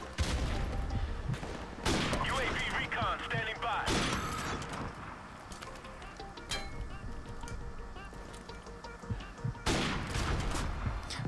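Call of Duty Modern Warfare Remastered multiplayer gunfire: sharp bursts from a Desert Eagle pistol and M40 sniper rifle, several loud cracks between quieter game ambience, with a voice talking over it.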